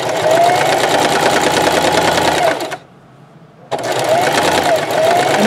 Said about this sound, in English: So I'm going to do a back stitch, a few stitches forward, a few stitches back.